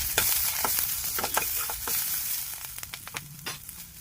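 Oil crackles and sizzles steadily in a hot pan while a tomato chutney with gourd leaves is cooked, with scattered sharper pops and spatters over a continuous frying hiss, close and moderately loud.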